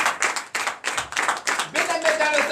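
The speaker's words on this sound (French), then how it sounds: "Donnez de vive acclamation à l'Éternel." A church congregation claps and acclaims together at a Sunday worship service, with rhythmic bursts of hand clapping in quick groups, loud and near, mixed with cheering voices.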